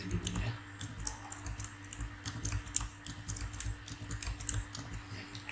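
Fingers typing on a computer keyboard, rapid irregular clicks and taps close up, with a soft background hum and no talking.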